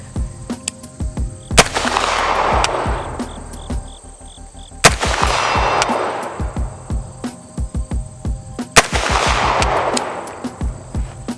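Three loud gunshots from a CMMG Banshee MK10 chambered in 10mm ring out outdoors at a range, spaced about three seconds apart, each a sharp crack with a fading echo tail and no talk.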